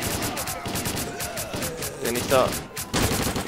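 Rapid automatic gunfire rattles through combat in the S.T.A.L.K.E.R. Clear Sky video game, dense bursts of shots continuing nearly nonstop while someone speaks German over them.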